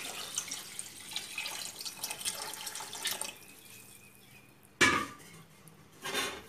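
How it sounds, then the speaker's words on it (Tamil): Extra water is poured into a pot of mutton biryani, a brief splashing pour, followed by a second softer burst of water near the end. "எக்ஸ்ட்ரா தண்ணியும் சேர்த்துக்கிறேன்."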